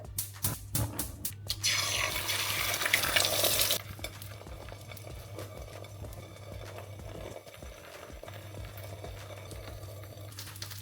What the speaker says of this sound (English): Now while the eggs are cooking